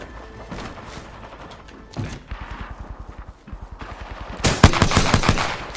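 Rapid automatic gunfire from a video game, with bursts of evenly spaced shots that grow louder and denser toward the end, over low background noise and no speech.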